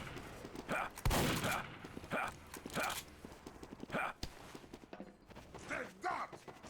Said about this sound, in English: There's a lot of rockets in TF2.